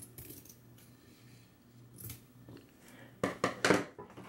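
Scissors trim white paper to line up with black paper for a tuxedo-themed dessert table decoration, the snips coming as a few sharp, close cuts near the end after a quieter stretch.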